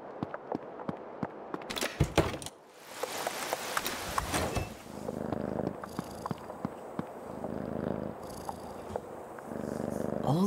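A scared cat purring in the horror video game Creepy Tale 2, a soft, low rumbling purr that rises and falls over several seconds, punctuated by sharp clicks and a brief louder burst of game noise.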